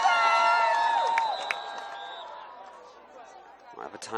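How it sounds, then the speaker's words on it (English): A high school football crowd cheers for Marin Catholic against Cardinal Newman, with sustained whoops and shouts that swell at first and then fade into background chatter. "the crowd gets into it for Marin Catholic"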